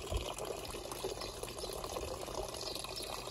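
Water falls steadily into a garden pond biofilter, a soft continuous splashing trickle heard close and alone, with no voices over it.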